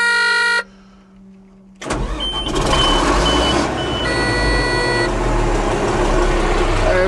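A Caterpillar D6R dozer's diesel engine cranks and catches after a brief tonal beeping, then settles into a loud, steady rumbling idle close by, with a short warning tone sounding briefly over it.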